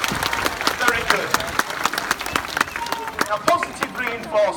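Audience at a sea lion show clapping in a patchy burst after the sea lion Merlin makes a catch, with a presenter talking over the applause throughout.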